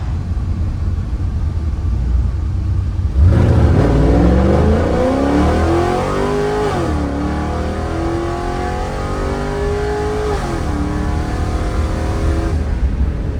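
A very loud police car engine runs at wide open throttle on a dynamometer, a roaring rev that climbs steadily in pitch, briefly dips, climbs again and then cuts off, close and with no talk.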